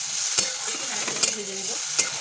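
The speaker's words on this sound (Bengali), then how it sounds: "এই শুকনো লঙ্কাটা ভেজে তুলে নেব" Vegetables fry with dry chilli, panch phoron, salt and turmeric in hot oil, a soft continuous sizzle punctuated by three sharp spatula taps against the pan.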